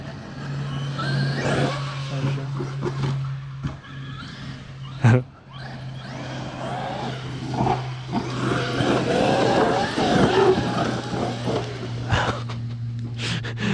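A Traxxas X-Maxx RC car runs at full throttle with a loud buzzing electric whine that rises and falls, mixed with tyre scrabble and thumps over rough ground, and voices shout briefly nearby.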